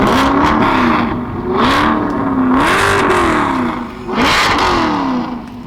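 A car engine is revved hard four times in a row, each burst a loud, close roar that climbs in pitch, holds briefly and drops back before the next, with no one talking.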